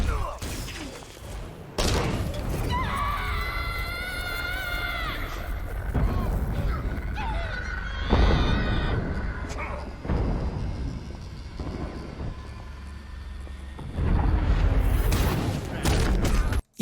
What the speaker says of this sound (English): even the gunshots in the background are all muffled